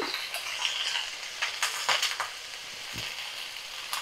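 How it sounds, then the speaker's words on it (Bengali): Spinach and winter greens stirred in a hot pan, a steady soft sizzle broken by scraping strokes and a few light clinks of the utensil against the pan, close and fairly quiet with no talking. "তো সব পালং শাকগুলো আমি দিয়ে ভালো করে দেখো নাড়াচাড়া করে নেব।"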